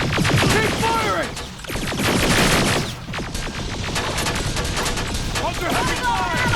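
Heavy sustained gunfire in the Terminator: Resistance video game, dense rapid automatic bursts from several weapons close by, with shouting voices mixed in over the shooting.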